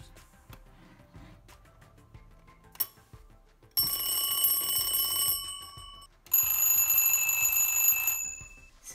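Vintage alarm clock ringing in a bedroom during a night routine, two loud bursts of bright metallic bell clatter, the first lasting about two seconds and the second about three, after soft handling noises.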